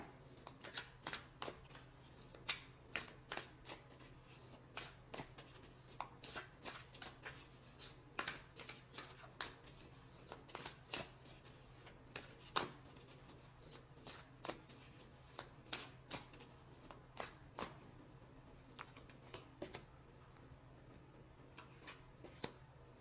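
Tarot cards being shuffled, heard as steady, quiet, close riffles and light slaps that repeat in quick irregular bursts throughout, with no talking.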